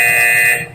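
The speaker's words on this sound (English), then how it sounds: "And we get a buzzer" A loud, steady electronic buzzer blares at close range for most of a second, then cuts off abruptly amid a game-show style event.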